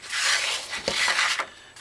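Paper for a folio-style journal is pressed down along its fold, giving a close, soft rubbing and scraping that runs steadily with a brief thump midway, no voices.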